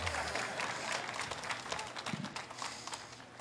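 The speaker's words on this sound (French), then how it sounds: "Frappez dans la main de quelqu'un d'autre." Audience at a live talk clapping hands with one another, a dense patter of many quick claps throughout, moderately loud with a few louder thuds.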